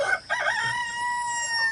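Chickens on a backyard farm give a short cluck, then a rooster crows in one long, loud, close call that stretches to the end with no speech.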